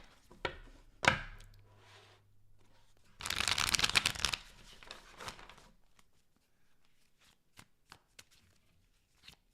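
A deck of tarot cards is shuffled in quick riffling bursts, a sharp flurry in the middle followed by scattered light taps and card snaps, close and quiet with no talking.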